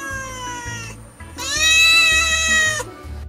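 A domestic cat gives a few close, loud meows, one drawn out and rising in pitch, clear and alone without any speech.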